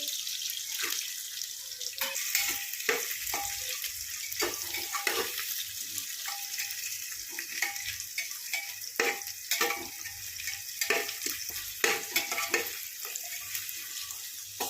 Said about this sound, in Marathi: भाज्या परतून घातल्या